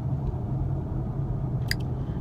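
Steady low rumble of a car driving on the road, heard from inside the cabin, continuous and even with a couple of faint clicks near the end.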